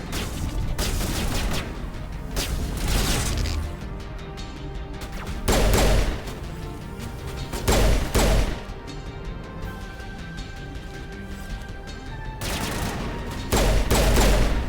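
Gunfire in the video game Mass Effect, loud bursts of rapid shots and sharp blasts recurring every couple of seconds over a dense, constant battle soundscape of game effects and music.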